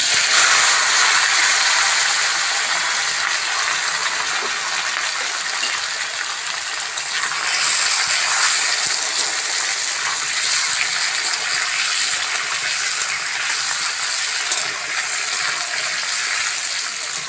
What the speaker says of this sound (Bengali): কেটে ধুয়ে রাখা কুমড়ো আর আলু দিয়ে দেবো কড়ার মধ্যে।